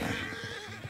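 A horse in a video game lets out a short, close whinny, a brief wavering neigh that fills the moment on its own without talk.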